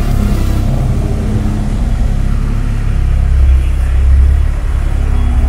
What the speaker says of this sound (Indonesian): Ya si Evo lagi panasin.